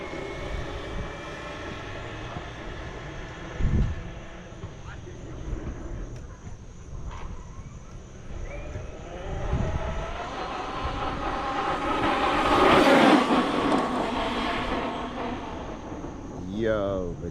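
An RC car with a damaged gear runs at speed, its high motor whine rising and falling before swelling into a loud, sustained roar toward the end; a person talks over it.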